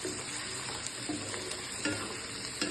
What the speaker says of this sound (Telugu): వీటిని ఫ్రై చేద్దాం ఫ్రెండ్స్.